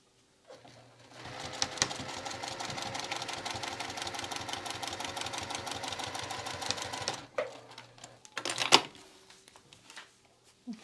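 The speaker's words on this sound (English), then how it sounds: "we're going to top stitch along this folded edge" A sewing machine topstitches along a folded fabric edge on a small wristlet, running steadily and close for about six seconds before stopping, followed by a few brief handling clicks.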